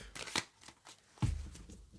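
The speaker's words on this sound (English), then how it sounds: "when I was shuffling, these shuffled beautifully" Spirit Carrier Oracle cards being shuffled close up, a few quick riffling bursts with a soft thump as the deck is squared, with no voices.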